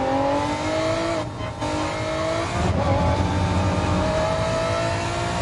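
Epson NSX race car in Gran Turismo Sport at the Barcelona Catalunya Grand Prix layout, loud engine revving and climbing through the gears with brief drops at shifts, tire noise underneath.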